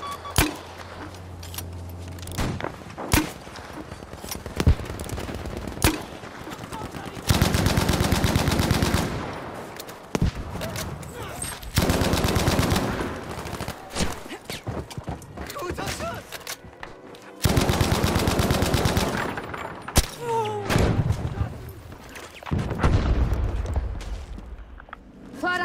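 Bursts of rapid machine gun fire in Battlefield 5, long sustained volleys separated by single shots and pauses, loud and close.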